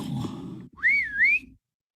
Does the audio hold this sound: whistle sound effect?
yes